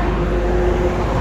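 Road traffic rumbling steadily nearby, with a constant engine hum over broadband tire and road noise. It is fairly loud and continuous, with no voices.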